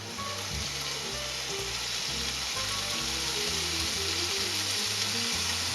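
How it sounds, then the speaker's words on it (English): Pork slices for okonomiyaki sizzle on a hot grill with a steady, loud hiss, while low background music plays underneath and no one speaks. "put your meat onto the grill"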